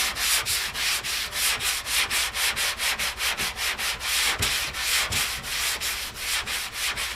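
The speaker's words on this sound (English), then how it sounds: "Hopefully this is dry enough to sand and not clog the sandpaper." Sandpaper blocks down Bondo body filler on 1977 Chevrolet Malibu Classic bodywork in steady back-and-forth strokes, a close, rhythmic rasping of about two strokes per second with no talking.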